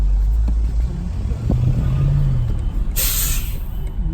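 A bus unloading on the road lets out a sharp, loud air brake hiss near the end, following a low engine rumble and traffic noise heard from inside a 2020 BMW M850xi Gran Coupe.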